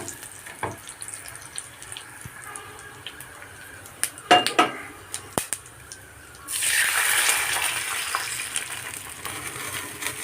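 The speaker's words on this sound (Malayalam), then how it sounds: "ഇനി ഇതിലേക്ക് തൈര് ഒഴിച്ചു കൊടുക്കാം." Yogurt poured into a hot pan of green chillies for a brinjal curd curry, a sudden loud burst of sizzling that stays dense and hissing after a few quiet clinks and taps.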